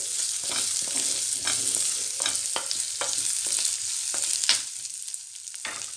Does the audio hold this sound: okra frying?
yes